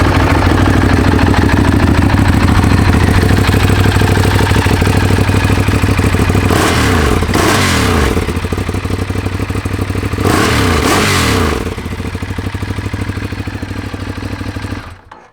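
A 2012 Ducati Diavel motorcycle idles with a steady, loud, close mechanical clatter. It rises into two sharp throttle revs that swell and then fall back to idle, with no talk over it.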